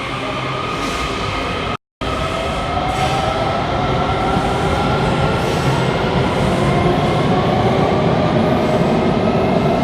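A train rushes loudly past at a station in Washington, D.C., a dense continuous roar with rising wheel squeal and rail rumble, close by, after a brief dropout near the start.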